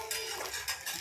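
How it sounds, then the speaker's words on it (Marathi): A spoon scrapes and clinks against an iron wok as sabudana khichdi is served onto a plate, a short close metallic scrape with a couple of light taps. "आता मी वाटीत काढत आहे, म्हणजे प्लेटमध्ये काढत आहे"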